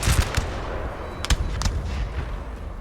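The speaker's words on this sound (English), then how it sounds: "think artillery that is there firing on the ruins" Napoleon-era artillery booms repeatedly in Napoleon: Total War as cannons fire on ruins, a handful of sharp distant blasts with rumbling tails over a steady battlefield din.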